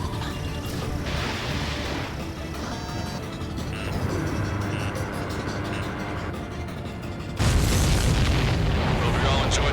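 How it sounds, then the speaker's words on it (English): Missile explosions and booming blasts in the Ace Combat 7 video game, loud continuous rumbling with a sudden heavier burst near the end, under game radio voices and engine roar. "The missile hit the supply ship dead on."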